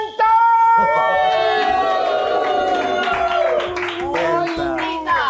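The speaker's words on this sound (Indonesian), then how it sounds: "Tepuk tangan buat Kapten Tsubasa." Studio audience clapping and cheering for a guest introduced as Kapten Tsubasa on an Indonesian comedy show, loud and continuous with whoops, alongside strong tonal music and talk throughout.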